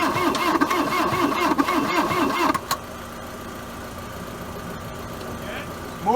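A 1980 Volkswagen Caddy engine runs with a steady, throbbing idle for a few seconds, then cuts off abruptly, leaving only a quiet background hum.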